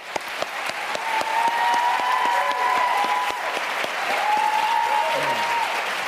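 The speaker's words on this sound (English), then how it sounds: "I think this is one time when we ought to just give them both a real round of applause" Audience applause for the candidates at a Virginia Attorney General debate, sustained clapping from a crowd with sharp individual claps audible and a faint whistle-like tone over it.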